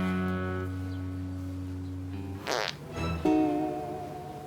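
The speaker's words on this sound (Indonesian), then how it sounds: "Kamu kentut ya?" A fart in a comedy sketch, a sharp buzzy rasp arriving after a sustained tonal hum, followed by a second shorter squeaky burst, close and fairly loud.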